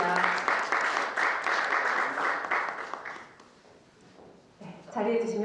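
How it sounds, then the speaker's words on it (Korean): Applause from the audience at a 2020 Busan youth smoking-prevention policy research club award ceremony: a dense burst of clapping that fades over a few seconds, followed by a speaking voice. "여러분 큰 박수 부탁드립니다."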